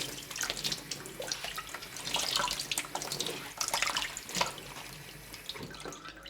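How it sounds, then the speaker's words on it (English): Cross stitch fabric is rinsed front and back under a running tap, giving a steady close splash and gush of water with irregular slaps and drips as the cloth is moved through the stream, and no talk. "Give it a really good rinse through. Rinse it front and back."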